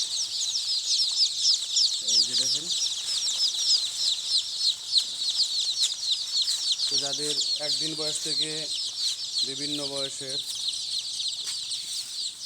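Dense high-pitched peeping of many native chicken chicks in a brooding pen fills the scene continuously, with someone speaking briefly in short bursts over it.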